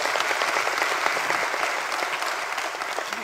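A crowd at an Equip Auto Paris announcement event claps steadily and fairly loudly, the applause holding as a continuous patter throughout with no voices rising above it.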